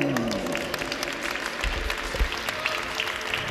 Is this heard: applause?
yes